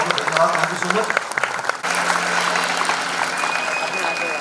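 Audience clapping at the Nayii Udaan live music show, a steady wash of applause that swells after a short lull and keeps going, with a host's voice faintly over it.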